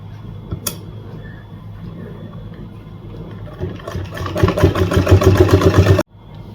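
An electric sewing machine stitches a salwar seam, starting with a faint low whir and then building to a loud, fast, rhythmic mechanical chatter that stops abruptly.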